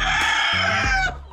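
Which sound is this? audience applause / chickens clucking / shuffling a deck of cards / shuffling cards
chickens clucking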